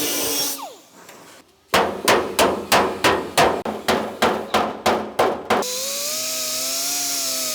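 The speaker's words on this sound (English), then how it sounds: "I can come back and hammer everything nice and flat" Sheet metal being hammered flat during car hood scoop fabrication, about a dozen sharp ringing blows in a steady rhythm, with quieter shop noise before and after.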